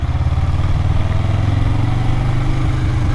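Motorcycle engine pulling away in first gear as the clutch is eased out and throttle added, a steady close, loud low thrum with a fast throbbing pulse throughout.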